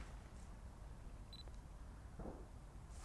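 A camera shutter fires once on an OM System OM-1 during a handheld landscape shot in Dutch farmland, a brief faint electronic beep and click against quiet outdoor background hiss.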